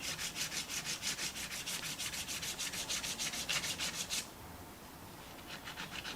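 Body filler on a Peugeot 206 wide-body rally car panel is sanded by hand with quick, even back-and-forth strokes. The rhythmic rasping runs steadily for about four seconds, then drops to a faint, slower rubbing.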